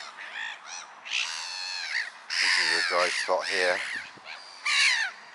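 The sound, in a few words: black-headed gulls calling excitedly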